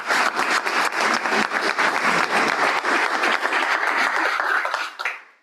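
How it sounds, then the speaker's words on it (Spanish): Audience applause at a Derecho Administrativo institute event, dense steady clapping from a room of people that holds for about five seconds and then stops abruptly. "Así que quiero que le demos un aplauso."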